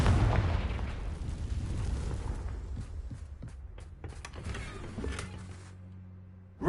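Confringo fire spell explosions in the Hogwarts Legacy video game: a loud, dense burst of rumbling blast noise that decays over several seconds, with sharper crackling pops near the end.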